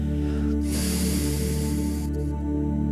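Ujjayi breathing during a breathwork routine, a single long, close, hissing exhale through a constricted throat with the mouth closed, steady and airy for about a second and a half.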